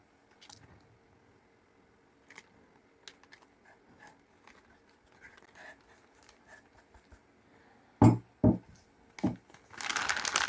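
Soft plastic crinkling and rustling, with a few sharper crackles near the end as a small bag holding cucumbers, salt, herbs and garlic is handled and sealed up close.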